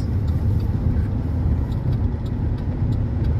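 Steady low engine and road rumble from inside a car travelling at speed near Medina, a continuous close drone with no gaps.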